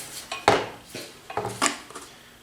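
Repeated metallic strikes on a clamped sheet of metal being shaped into a patch panel, with several sharp clanging hits spaced irregularly, close and fairly loud with ringing tails, no talking.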